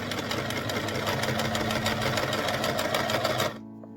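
A sewing machine stitches a skirt with a steady, fast mechanical whir and a rapid needle chatter, close and loud, then stops abruptly near the end, leaving only a low hum.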